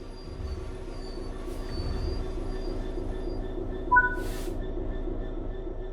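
A train in the Train Sim World 3 video game slows toward a stop, a steady low rumble of rolling cars with faint high brake squeals and a brief hiss of air partway through, no voices.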